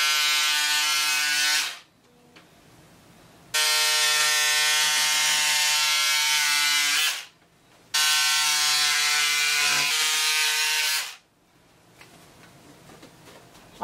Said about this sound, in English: I will cut out the back neckline.